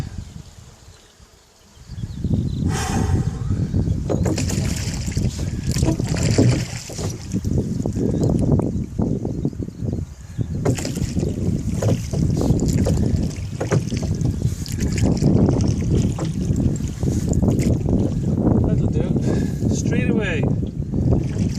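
A boat being rowed on wind-blown water near Waterville, County Kerry, heavy wind buffeting the microphone over a rhythmic wash and knock of oars, with people talking throughout.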